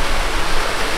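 Small hillside waterfall at Chota Ghaghi in Sarguja, near Ambikapur, with only a thin flow of water, giving a brief, steady rushing hiss of falling, splashing water with no voices.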